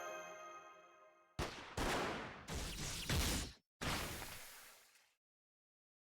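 A few sharp gunshots in Fate GO, five loud separate bursts with short ringing tails, each broken by silence, following a faint tonal hum.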